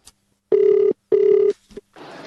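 A telephone rings in two separate bursts, loud and close, with a short scuffle and a brief noise just before the call is answered. There is no talking.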